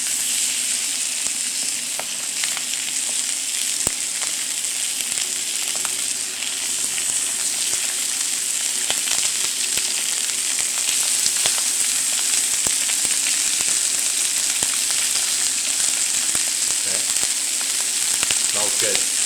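Skin-side-down chicken breast sears in a hot pan with a loud, steady sizzle that holds for the whole stretch, broken by light crackles and a few clicks.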